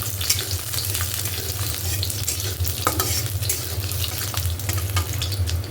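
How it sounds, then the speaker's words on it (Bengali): Chopped garlic fries in a pan with a steady sizzle while a utensil stirs it, adding scraping clicks and scrapes at irregular intervals; no one speaks. "কেটে রাখা রসুন, রসুনটা একটু নাড়াচাড়া করে"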